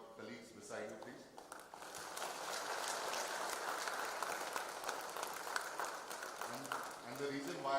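A conference audience at an audit conclave stands and claps, a dense, sustained round of applause filling the hall, with voices around it before and after.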